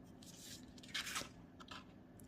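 A pen traces ivy leaves on paper along a stencil ruler, making faint, close scratchy strokes in short bursts with quiet gaps between them.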